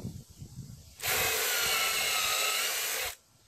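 A power drill whines steadily for about two seconds as it pre-drills into deck stair wood, starting and stopping abruptly, with light handling noise before.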